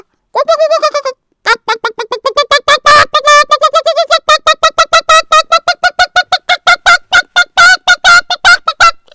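A startled hen squawks loudly and frantically, a rapid string of dozens of harsh cackling cries, close by and nearly continuous, with no talking.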